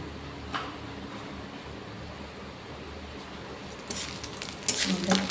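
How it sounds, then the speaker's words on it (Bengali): Whole dried red chilies, bay leaf and cumin seeds spluttering in hot oil as a Bengali tempering, a steady close sizzle that flares louder and crackles near the end, with a stir. "এর উপরে ফোড়নে দিয়ে দিচ্ছি লঙ্কা দুটো একটু ফাটিয়ে দিচ্ছি, তেজপাতা, গোটা জিরে"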